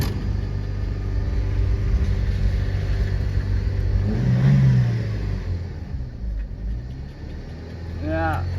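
A 2004 Chevrolet Optra engine idles high at around 3000 RPM with an overheating fault, a steady close rumbling drone that holds throughout with a brief surge near the middle.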